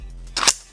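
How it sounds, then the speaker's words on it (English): A charging handle being pulled back on a Tippmann M4 paintball marker, a single sharp mechanical snap with a brief metallic rattle, close and loud against near silence. "before you insert the mag, pull that charging handle back"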